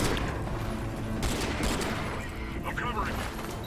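Gunfire in Crysis 3 rattles in rapid, overlapping bursts, a dense and continuous stream of shots throughout.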